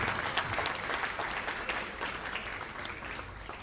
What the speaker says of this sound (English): Please let's give him a warm, loud round of applause.